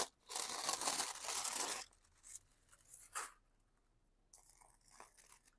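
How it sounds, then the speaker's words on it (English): Tissue paper is ripped off a vinyl pouch, giving a loud close crinkling tear followed by quieter rustles and a few softer ripping bursts. "And now we can just rip the tissue paper off."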